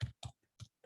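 Keys tapped on a computer keyboard, four short distinct strokes in quick succession, close by and alone without talk.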